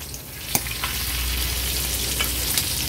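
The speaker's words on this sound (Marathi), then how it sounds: "आता 2 ते 3 मिनिटांसाठी एक बाजू आपण फ्राय करून घेणार आहोत लो टू मीडियम फ्लेमवर" Fish pieces frying in a pan over a low-medium flame for a seafood thali, a continuous close sizzle with a few sharp pops and crackles scattered through it.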